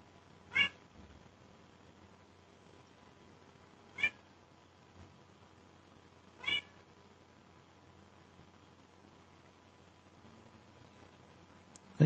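A cat meows three times, short sharp calls spaced a couple of seconds apart in an otherwise quiet room, close and clear.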